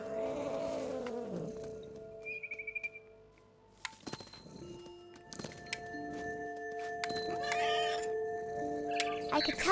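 A cat meows in the video game What Remains of Edith Finch, a brief mid-pitched call amid clinking, tapping and scattered thuds over a faint steady ambient hum, with a brief human voice early on.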